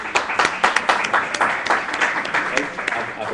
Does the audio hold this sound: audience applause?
yes